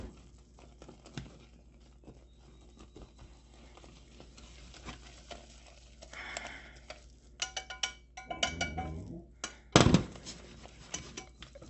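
A spoon or whisk clatters against a pan while flour and cocoa are stirred into a boiling mixture, starting as quiet scraping and building to rapid, loud knocks and scrapes near the end.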